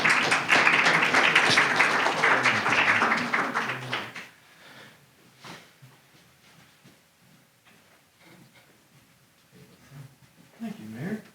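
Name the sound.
applause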